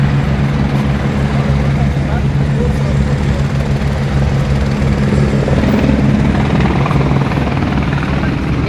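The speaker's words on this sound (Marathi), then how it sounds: "हेलिकॉप्टरची वाट बघत आहोत." A helicopter at a mountain helipad around 11,800 feet gives a loud, continuous rotor and engine drone, close and steady, with people's voices faintly mixed in.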